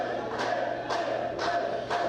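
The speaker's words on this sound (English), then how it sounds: "This crowd trying to rev up Dysfunction" Crowd at a wrestling event cheering and shouting in rhythmic surges, loud, dense and continuous with repeated swells of chanting.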